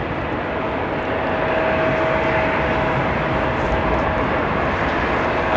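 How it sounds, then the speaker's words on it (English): A KLM Cityhopper airliner taking off at Amsterdam Airport at night, its engines producing a loud, steady broadband roar with a faint whine, heard from a distance without pause for several seconds. "Takeoff here by the Little Nugget"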